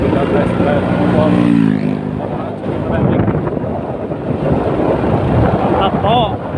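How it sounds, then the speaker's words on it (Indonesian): Yamaha Jupiter MX motorcycle on a test ride after an engine rebuild, its engine droning steadily on a main road amid strong wind buffeting the microphone, with a voice talking over it. "Ya, kita tes drive motor."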